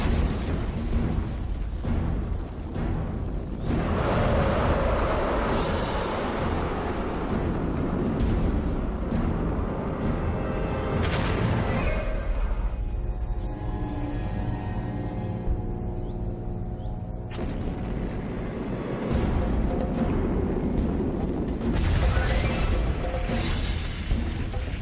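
A V2 rocket launch going wrong, heard as a long, loud, sustained roaring explosion with booming bursts and rumbling eruption, filling the whole stretch without any voices.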